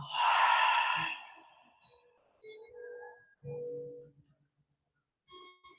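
A long, full exhale during a yoga breathing round, breathy and close for about a second, followed by quiet, soft fragments of room sound.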